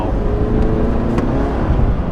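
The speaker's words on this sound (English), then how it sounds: "This truck actually has decent sound. It has some turbo whistles." A 2022 Chevy Silverado Custom with a four-cylinder turbo engine accelerates with a steady low roar and a faint rising whine, heard close from inside the cab.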